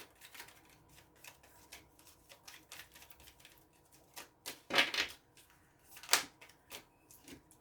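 Tarot cards shuffled and drawn from a deck, a string of soft papery riffles and slides with two sharper, louder snaps of cards pulled out near the end, close and alone with no talk.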